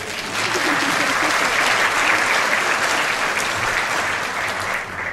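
Audience applause at the opening of a musical theatre festival in Gdynia, a full steady round of clapping from a large crowd, loud and sustained, tapering slightly at the end.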